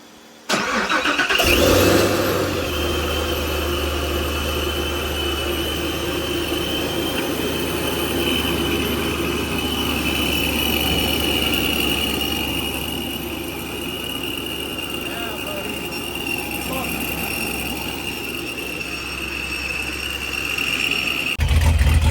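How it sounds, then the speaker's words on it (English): A Chevrolet Corvette C7 Z06 engine with a Procharger F1A94 supercharger cranks and catches, then settles into a steady loud idle with a faint high whine, revving briefly near the end. "I'm gonna have Ali start the car."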